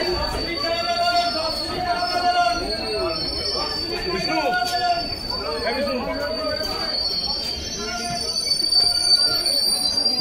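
The Lalgola Sealdah Express stands at a busy station platform, with metallic wheel squeals, clanks and a high sustained whine mixing with crowd chatter and nearby voices throughout.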